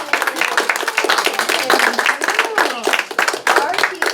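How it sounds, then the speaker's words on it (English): Lively clapping from a room of elementary school children, with sharp individual claps and an uneven rhythm that swells and dips, close and loud, with some voices mixed in. "Let's give them a big old round of applause."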